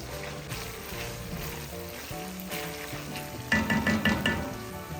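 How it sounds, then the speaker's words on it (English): Tomato paste frying in a pot for egusi soup gives a steady, close sizzle. Light stirring clatter picks up near the end. "So after that I'm going to add in tomato paste. So I'll let this fry for some few minutes."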